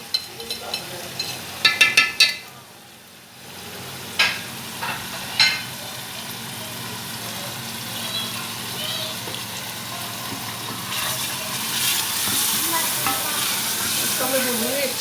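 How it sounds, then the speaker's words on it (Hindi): Tomatoes with red chilli and salt fry for aloo gosht, a steady hiss building as the pan heats, broken early by a few sharp scraping stirs and later by spoon strokes through the masala. "इसको मैं भूनूंगी अच्छी तरह जब तक ये टमाटर सॉफ्ट नहीं हो जाते।"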